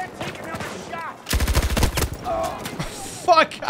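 Rapid automatic gunfire in Battlefield 2042 rattles in a dense burst of shots mid-clip, with a shorter burst near the end, while voices talk around it.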